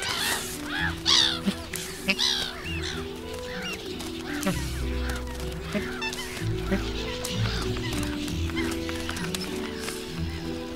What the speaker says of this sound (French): Surtout les mouettes rieuses. Elles arrivent par milliers de l'Atlantique.